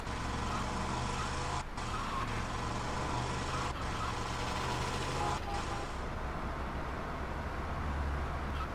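Car driving in GTA Vice City Definitive Edition, a steady low engine drone with road noise running continuously throughout, with no voices.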